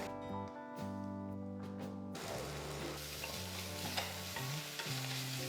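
Crushed ginger, garlic and green chilli sizzle in a pan with lightly browned onions for duck peralan, a soft steady frying hiss broken by the scrape and clatter of repeated stirring.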